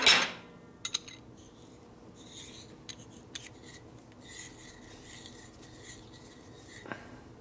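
Faint metallic rasping and a few sharp clicks as a nut is threaded with a die onto a 1967 Harley shovelhead transmission part, quiet and intermittent.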